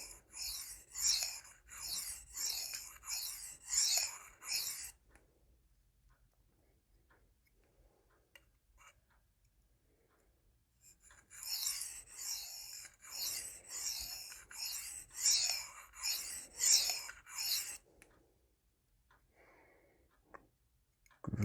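An SPK Shark knife in 4V steel is sharpened with repeated rasping strokes, close and crisp, in two bursts of about five seconds each separated by near silence.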